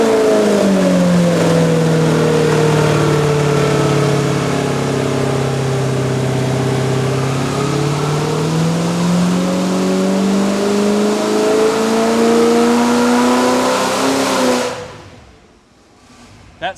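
An EFI engine runs loud and close, its pitch sagging and then climbing again as the revs change. It shuts off near the end, leaving quiet.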